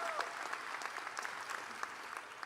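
Graduates at a 2022 undergraduate commencement applaud steadily, a dense wash of many hands clapping at moderate loudness for a few seconds, with a stray voice or cheer mixed in.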